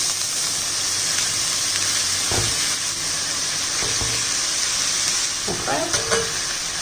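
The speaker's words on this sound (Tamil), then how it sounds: "இதை கொஞ்சம் வதக்கி விடணும், கிளறி விட்டு" Drumstick flowers frying with chilli and shallots in a pan, a steady close sizzle and hiss with a few scraping stirs, and a brief spoken word near the start.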